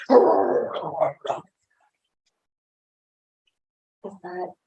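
A grumpy, sleepy dog growls in two bursts: a longer rumbling growl lasting over a second with a short follow-up, then a pause of about three seconds and a brief final grumble, close and moderately loud.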